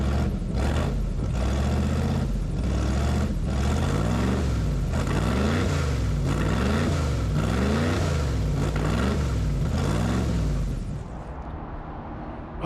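An airboat engine, freshly reassembled with its cage back on, runs loud and close, a rough pulsing roar with rising and falling throttle surges that drops away near the end.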